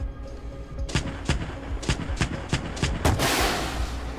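Tank main gun firing in the PC game Gunner HEAT, an Abrams crew setting: a rapid series of about seven booming shots at even intervals, then a louder blast that trails into a long roaring rumble.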